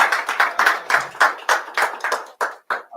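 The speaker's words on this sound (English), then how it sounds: "Please give me a round of applause." A small group claps briefly, about a dozen distinct hand claps in an uneven rhythm, close by and fading out within a few seconds.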